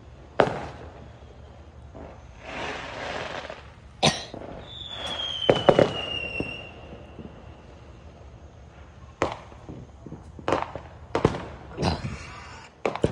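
Fireworks at a Fourth of July celebration pop and bang in scattered bursts, with sharp cracks, a few crackling volleys and a brief rising whistle, heard alone at moderate distance.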